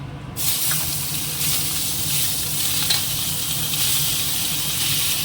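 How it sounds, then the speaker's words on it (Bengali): Fish pieces fry in hot oil in a home kitchen before going into a curry, giving a steady, loud, close sizzle that starts abruptly and carries on evenly throughout with no talking. "তো মাছগুলো আগে সব একটুখানি ভেজে নিই"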